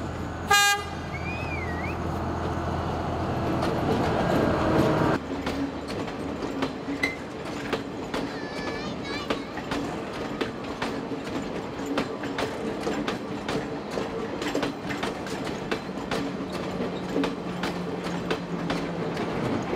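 At a station in Ella, Sri Lanka, a loud train horn blares for several seconds, then the train rolls past with rhythmic clattering and rumbling wheels that continue steadily.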